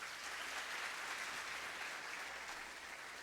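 A church congregation applauds steadily for a few seconds, a dense, even wash of clapping from many hands, moderately distant and without talk.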